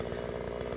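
A Chinese-made chainsaw runs with a steady buzzing drone, quiet and brief, while bucking logs outdoors.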